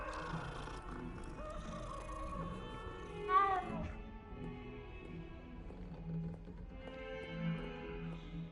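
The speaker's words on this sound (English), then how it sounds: "Oh, that's a cat." Cat meowing in a hall in the video game Hogwarts Legacy, a short faint meow rising over quiet ambient music and footsteps, with a second soft call later.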